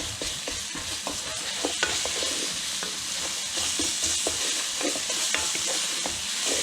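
Garlic and red pepper flakes sauté in a hot pan, giving a steady close sizzle broken by frequent clinks and scrapes of a utensil stirring throughout.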